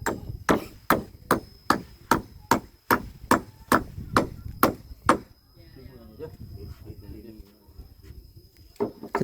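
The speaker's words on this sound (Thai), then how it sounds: "คือตอกน้อยแท้น่ะ" A hammer striking a wooden house frame made of still-damp timber, a dozen loud, evenly spaced blows in a steady rhythm that then stop, followed by quieter handling noise and a voice talking.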